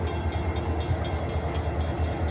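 A Pennsylvania Northeastern train rumbles past at close range, a steady low mechanical roar with faint rhythmic clatter of wheels on rail.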